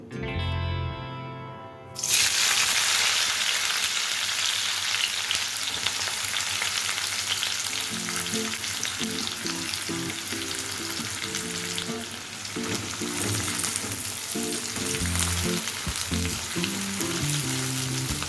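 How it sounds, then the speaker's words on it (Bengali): Two medium sliced onions hit hot oil with a sudden loud sizzle after a quiet start, then fry steadily into crisp browned onions, with a continuous hiss and occasional stirring clatter from the pan. "তেল ভালো মতো গরম হয়ে গেলে এর মধ্যে 2টো মিডিয়াম সাইজে স্লাইস করে কেটে রাখা পেঁয়াজ আমি অ্যাড করে দেব"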